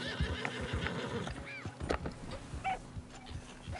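A horse in the video game Red Dead Redemption 2 neighs in short whinnying bursts amid hoof clatter and other faint animal calls, quiet and somewhat distant.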